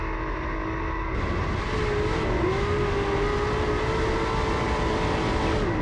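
Pro 4 off-road race trucks roaring around Crandon International Raceway, a dense, continuous engine drone with a rising and holding whine as trucks accelerate past, loud and unbroken throughout.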